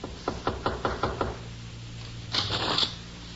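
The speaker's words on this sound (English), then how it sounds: "he stumbled to the door of Joy's room and knocked" A series of about six firm, evenly spaced knocks on a bedroom door at night, close and distinct, followed by a brief rustling shuffle.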